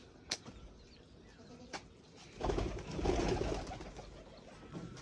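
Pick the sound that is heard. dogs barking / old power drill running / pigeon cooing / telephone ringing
pigeon cooing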